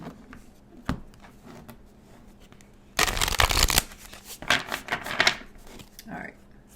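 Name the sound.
shuffling oracle cards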